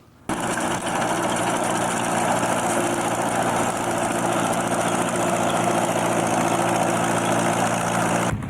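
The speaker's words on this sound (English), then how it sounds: "It's a Massey Ferguson windrower that we use for cutting of the peppermint and spearmint, Ephraim." A Massey Ferguson windrower cutting peppermint and spearmint in a field, its engine a loud, steady, unbroken drone with a high whine that runs for about eight seconds and stops abruptly.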